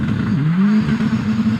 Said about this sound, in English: Revs rising and he's away.